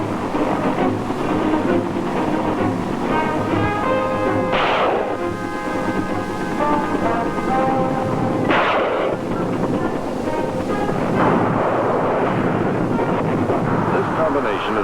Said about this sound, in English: AH-1G Huey Cobras swept in with rockets and raking machine gun fire.